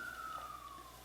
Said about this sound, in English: Sorry if you can hear the sirens outside.